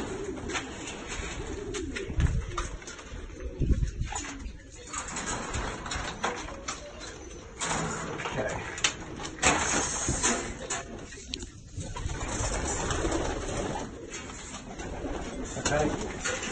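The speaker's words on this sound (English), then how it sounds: "stock pigeons" Stock pigeons in a loft make soft, continuous cooing and fluttery calls under a busy, fairly close background, with no clear talking heard.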